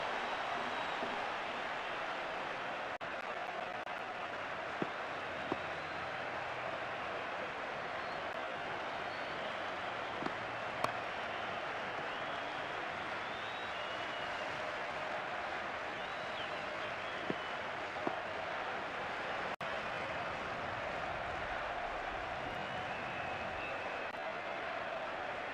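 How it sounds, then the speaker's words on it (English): Cricket stadium crowd applauding a six in the game Cricket 2005, a steady, distant wash of clapping and cheering that holds evenly throughout with a few faint pops on top. "The crowd really enjoyed that one."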